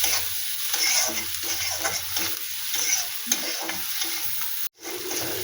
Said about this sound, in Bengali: পেঁয়াজটা ভেজে তারপরে একটু লবণ দিয়ে দিলাম হলুদও দিয়ে দিলাম পেঁয়াজটা ভালো করে নাড়াচড়া করে হচ্ছে নরম করে নেবে